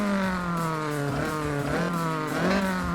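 A Honda Beat's small engine revving in the racing game Forza Horizon, with a steady buzzing drone that rises and dips through several gear changes, loud and continuous with no voices.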